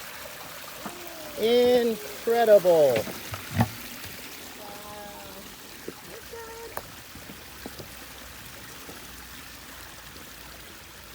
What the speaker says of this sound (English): Here it is for the first time. For the first time, water comes out.